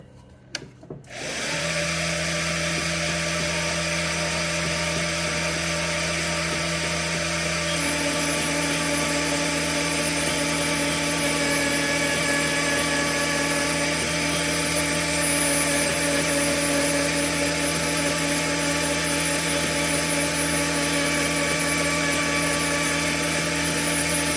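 A rose engine lathe motor runs steadily while turning a bowl, giving a continuous, close mechanical hum and whir that starts abruptly after a brief noisy onset and holds level throughout, with a slight shift in pitch partway as the speed changes.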